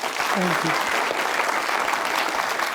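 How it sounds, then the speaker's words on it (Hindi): A studio audience on an Eid special talk show breaks into strong, steady applause, dense and close, with a voice briefly heard over it near the start. "तालियां बजाइए जोरदार"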